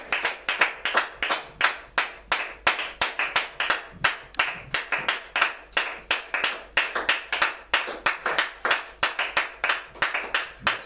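A church congregation claps in unison during worship, sharp rhythmic claps repeating steadily at an even tempo, close and clear with no voices over them.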